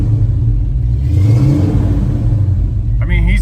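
Car engine revving up and settling after points and wiring work, with the heater core bypassed; a loud, close, smooth rumble runs throughout, with a brief mechanical clatter near the end.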